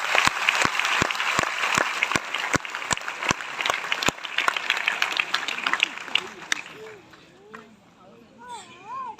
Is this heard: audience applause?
yes